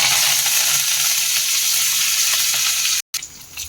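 Peanuts and curry leaves frying in hot oil for mango rice, a loud steady sizzle that runs without pause, broken only by a brief cut near the end.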